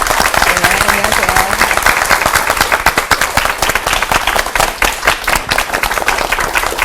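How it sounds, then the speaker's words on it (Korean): A church revival meeting audience applauds with dense, sustained clapping that holds steady for several seconds before thinning slightly. "큰 박수로 맞아주시기 바랍니다"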